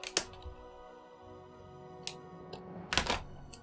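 A few sharp snips and crinkles as scissors cut open plastic toy packaging for a Jurassic World Kayla Watts and Pyroraptor figure, close and isolated, spaced clicks with quiet gaps between.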